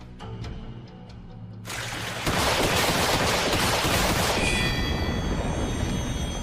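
Anime weapon firing with unlimited ammo: after a few quieter clicks, sustained dense gunfire erupts and continues loudly as a constant roaring barrage.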